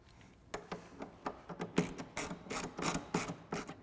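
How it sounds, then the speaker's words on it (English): Ratchet wrench torquing bolts on a Polaris extreme front bumper, a run of quick, close clicking bursts in an uneven rhythm with no voice. "Once we have all the bolts loosely installed, we'll go back and torque them all to specification"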